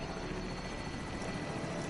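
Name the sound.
helicopter in a video game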